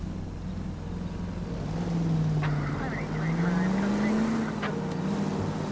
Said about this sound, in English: And we're in a nice unmarked black car.